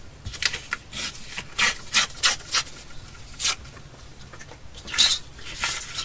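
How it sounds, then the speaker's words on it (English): Botanical book pages are trimmed with a series of short, scratchy cuts and rubs, close and fairly faint, arriving in irregular bursts with brief pauses between them. "I'm going to trim from this side."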